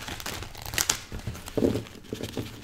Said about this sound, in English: these cards don't want to shuffle today